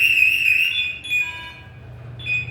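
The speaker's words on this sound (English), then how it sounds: "I'm going to check my panic alarm, make sure that works." A firefighter's panic alarm being tested at a fire academy, a loud, shrill electronic tone that warbles, then drops into shorter steady tones with brief breaks, heard alone.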